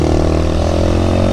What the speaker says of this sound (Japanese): マフラーに水が入ってるみたいな音